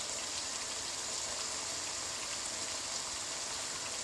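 Curry leaves drop into hot oil for a chicken curry, giving a bright, continuous sizzling hiss that stays steady and fairly quiet from start to finish, with no voices.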